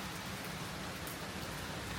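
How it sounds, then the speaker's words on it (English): Heavy rain pours down steadily during a hailstorm in Georgia, a dense, continuous hiss of drops striking surfaces close by, loud and unbroken with no voices. "I can't go out there because it's raining real bad"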